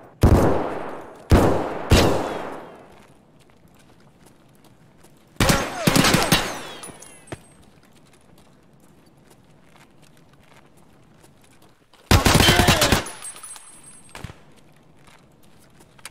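Gunfire in Escape from Tarkov on the Woods map: loud, sharp shots and short bursts come in separate clusters, two quick ones at the start, a heavier volley a few seconds later, then a long pause before a final burst and a lone shot.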